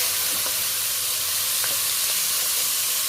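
Grated onion, green chilli and tomato sizzle loudly in hot oil for a Bengali tengra fish curry, a dense, continuous hiss with a few faint clicks of stirring.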